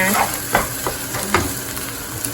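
Rice is stir-fried in a hot pan with Chinese kale, salted fish and egg, giving a steady close sizzle broken by repeated scraping and tossing strokes of the spatula.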